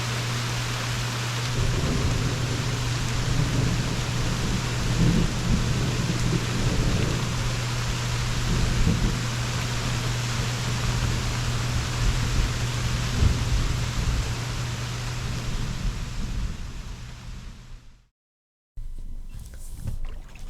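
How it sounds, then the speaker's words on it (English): Steady rain hisses throughout with low rumbles of thunder rolling underneath, heard from a cabin at a river camp, continuous and fairly close, then a brief drop to silence near the end. "we'll just end day 3 with sounds of rain and thunder from our cabin"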